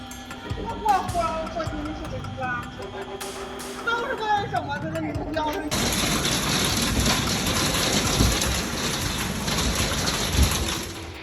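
A sudden heavy rain downpour bursts in midway, a loud, dense, steady hiss that swamps everything, after a calmer stretch of a voice and bird calls.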